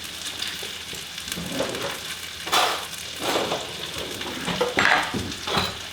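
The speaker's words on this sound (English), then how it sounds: "I just cut up the shallot up quite small, so that's great. Just let that cook down." Finely chopped shallots cook down in a butter sauce, giving a steady soft sizzle and bubbling with louder crackling bursts swelling every second or so.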